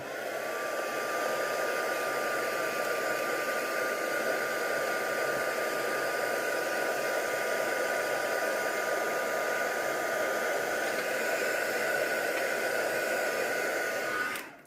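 A hair dryer blows on an art journal page, a steady loud whooshing roar with a constant tonal whine held for about fourteen seconds before it cuts off abruptly; no one speaks.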